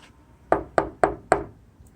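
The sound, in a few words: knocking on an unprotected car hood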